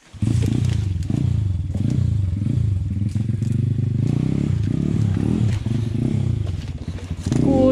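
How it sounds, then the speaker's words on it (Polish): A Pitgang 140xd pit bike's engine roars steadily and close as the motorcycle churns through deep mud, with clattering and scraping over a continuous loud drone that revs up near the end. "on chce motorem przejechać, ten Piotrek"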